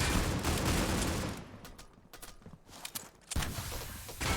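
Gunfire in the mobile shooter Critical Ops during a tournament match: dense, loud bursts of rapid shots, a sparser stretch of single cracks and footsteps, then another heavy volley.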